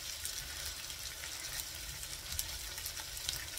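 Bacon frying in a pan and being turned with tongs: a steady close sizzle with crackling pops throughout, a few light clicks of metal, no voices.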